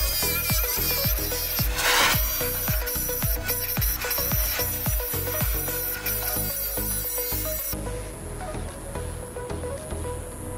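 Jadeite jade rock being cut into a circle with a saw, a continuous gritty grinding with repeated rhythmic rubbing strokes, close and steady throughout.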